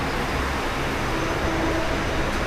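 A train at Belapur station bound for Panvel gives off a continuous low rumble and hum on a hot summer afternoon, steady and moderately loud throughout with no talk.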